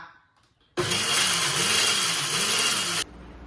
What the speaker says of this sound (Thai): นำพืชสมุนไพรพื้นบ้าน มาบดละเอียดด้วยเครื่องปั่นครับ